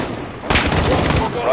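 Gunfire in Call of Duty Modern Warfare (2019) during the Embassy campaign mission, a sudden loud burst of rapid automatic shots in a tight volley lasting about a second, close and punchy.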